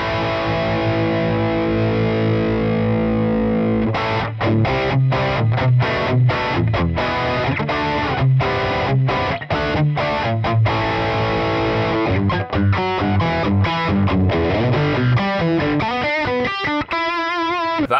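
Heavily distorted electric guitar through a Mesa Dual Rectifier amp boosted by a TS-808 Tube Screamer, a sustained chord followed by loud, tight rhythmic palm-muted chugs and stabs, dense and continuous with no talking.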